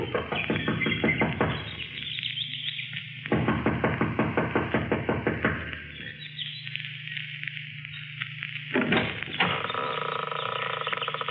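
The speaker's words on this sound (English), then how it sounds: "She knocks impatiently, looking about anxiously." Impatient knocking on a lodge's front door as a radio drama effect: rapid bursts of repeated raps in several separate rounds, close and fairly loud, with brief pauses between them.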